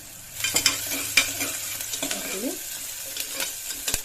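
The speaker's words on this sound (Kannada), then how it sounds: "ಈರುಳ್ಳಿ ಚೆನ್ನಾಗಿ ಫ್ರೈ ಆಗಲಿದೆ ಈರುಳ್ಳಿ ಜೊತೆಗೆ ನಾನು ಬೆಳ್ಳುಳ್ಳಿ ಹಾಕಿದ್ದೀನಿ" Chopped onion and crushed garlic fry in a pan, a soft sizzle broken by scraping and clinking as the mixture is stirred. No one speaks.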